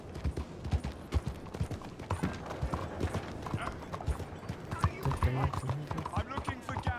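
Horse hooves clip-clop at a steady trot in Red Dead Redemption II, quick close knocks running throughout beneath faint game ambience.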